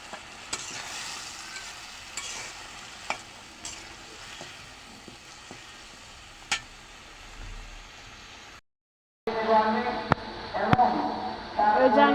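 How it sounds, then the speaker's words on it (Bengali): Tilapia curry cooking on a stove, with a low steady sizzle and occasional stirring clinks, then a louder, brighter frying hiss after a brief gap; a voice speaks over it. "ওই যে আমি এখানে তরকারিটা বসাই দিচ্ছি।"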